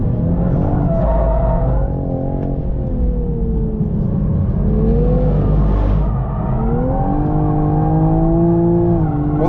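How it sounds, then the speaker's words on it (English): Toyota GR Supra Track Edition with a six-speed manual lapping a race track, its engine loud and close, revving up and down steadily through gear changes with a continuous rumbling drone. "We'll do a couple of laps in the Supra and see how it goes."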